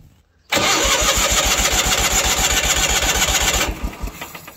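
A Ford F8000 truck that has sat unused for years cranks on its starter, a loud, steady rhythmic chugging for about three seconds that then stops, with no catch or run-up.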